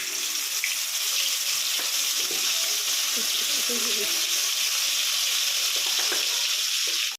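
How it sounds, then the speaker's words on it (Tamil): Mustard seeds spluttering in hot sesame oil, a continuous crackling sizzle with scattered small pops and faint clinks, close and steady until it cuts off abruptly at the end. "இப்போ பார்த்திங்கன்னா வந்து கடுகு பொரியுது"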